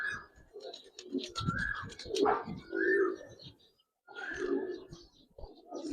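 Giribaz and colouring pigeons coo and call repeatedly at close range, overlapping bursts with a brief pause midway, fairly quiet, with faint murmuring in the background.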